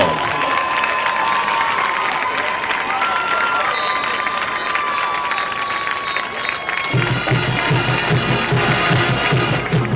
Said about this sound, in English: Let's give our court another big round of applause as they exit the field.